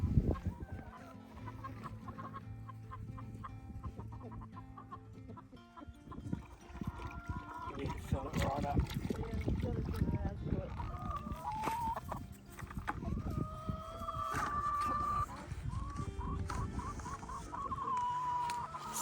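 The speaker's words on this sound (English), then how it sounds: "They eyed Russell Crowe and the black hens with caution, circling the coop and clucking softly amongst themselves." Chickens and a rooster cluck and squawk around the coop, nearby and continuous, with scattered bursts of louder calls over soft scratching and movement.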